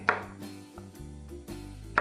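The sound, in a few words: cutting the edges off okra with a knife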